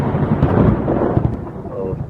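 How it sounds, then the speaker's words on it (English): A loud rolling rumble of thunder with rain hiss, a thunderstorm effect played during a live show, the low roar swelling and fading without pause. "let's stop the storm down here"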